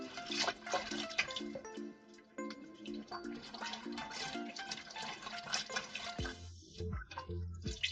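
Water runs and splashes while a laundry room sink is rinsed, a faint trickling and spattering heard under soft background music.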